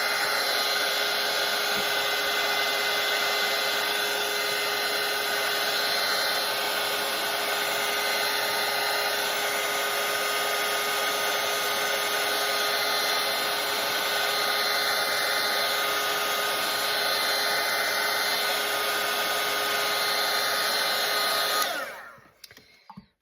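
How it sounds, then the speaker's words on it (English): A hair dryer drying watercolor paint blows with a constant, loud whirring hum and airy rush for about twenty seconds, then switches off. "So I'm gonna grab a dryer."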